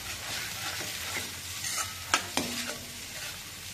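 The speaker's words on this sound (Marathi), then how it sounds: "आता मिश्रण छान लालसर होईपर्यंत परतावायचं" Roasted onion, coconut, dried fenugreek leaves, cloves and cardamom sauté in a pan for a Vidarbha-style brinjal curry, with a soft steady sizzle, scraping stirs and a couple of sharper spoon taps against the pan.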